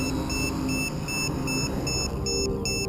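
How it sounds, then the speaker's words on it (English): A LiPo battery low-voltage alarm beeps rapidly in steady bursts over the constant whirring motor drone of a quadcopter in flight, loud and close throughout. "oh, lipo alarm just kick in"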